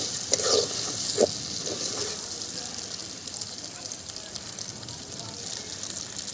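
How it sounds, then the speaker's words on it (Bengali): Masala with three cardamom pods fries and is stirred in a pan for a chicken dish, a steady close sizzle with a few spoon scrapes early on that settles into an even hiss. "3টে এলাচ এর মধ্যে অ্যাড করে দিচ্ছি। তারপরে আবারও নেড়ে নিচ্ছি।"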